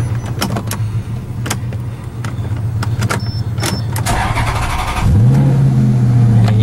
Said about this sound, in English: So first, let's put on the brake and start it.